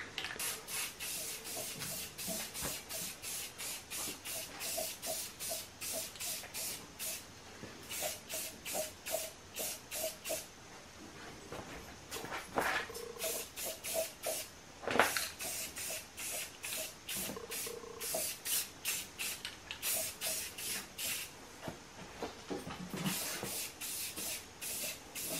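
An aerosol can sprays a light coat of primer onto a magnet-fishing magnet in steady, repeated hissing bursts, each lasting a second or less, close up and continuing throughout.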